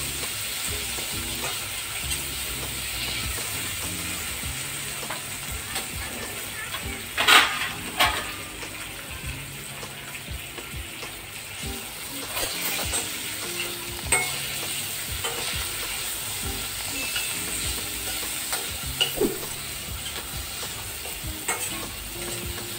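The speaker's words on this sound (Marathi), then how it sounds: "बऱ्यापैकी त्या परतवून घ्यायच्या तेलात आणि लसणामध्ये" Okra sautés in oil and garlic, a continuous close sizzle with occasional spatula scrapes and light clatter against the pan over a long stretch, no speech.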